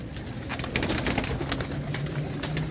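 Pet pigeons of a breeder's stock for sale produce a dense, steady bed of low cooing nearby, broken by frequent short taps and flutters of wings.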